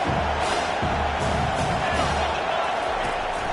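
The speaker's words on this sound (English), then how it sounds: "This crowd rising up, sensing that its defense needs some help." Football stadium crowd at a Washington State vs Washington game, a broad, steady roar of cheering that rises and holds loudly throughout, with a commentator's voice faintly underneath.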